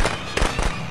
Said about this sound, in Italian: la prima volta che becco Jason con i petardi